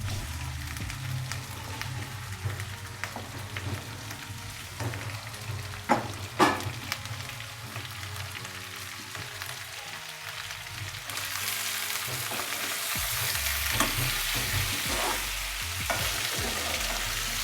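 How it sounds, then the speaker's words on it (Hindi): Chicken necks frying with ginger and garlic in a hot pot, giving a steady close sizzle with intermittent stirring clatters. Partway through, the frying swells into a louder hiss. "गर्दनें डालते वक्त थोड़ा थोड़ा चलाइएगा ज़रूर"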